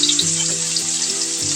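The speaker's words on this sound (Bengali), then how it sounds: "এ পর্যায়ে পেঁয়াজ কুচিগুলো দিয়ে দিলাম।" Chopped onions frying in oil for a hilsa fish dish: a dense, continuous bright sizzle with a faint low hum beneath, close up and steady.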